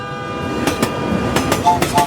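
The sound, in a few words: train horn, approaching train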